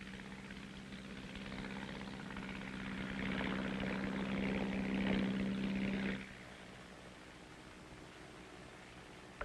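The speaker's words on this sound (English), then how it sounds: "Today, these fire control planes are an important part of every artillery outfit." A propeller-driven artillery fire control plane flies overhead, a steady engine drone with a strong low hum that swells and then drops away sharply near the end, heard alone with no talk.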